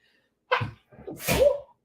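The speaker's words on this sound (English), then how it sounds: "Oh, I'm going to sneeze." A single sneeze, close and fairly loud: a sharp intake of breath, a short pause, then an explosive burst.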